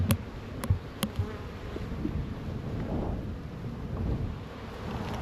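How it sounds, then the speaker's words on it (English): Very active honey bees hum and buzz in a steady mass at the hive, a low continuous drone close to the microphone, with a few sharp clicks early on. "the bees are very, very active"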